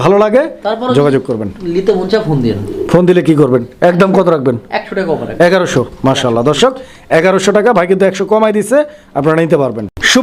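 Fancy Rajgolla pigeons in a pair at a pigeon farm coo loudly and close by in repeated throaty, rolling phrases that nearly fill the whole stretch.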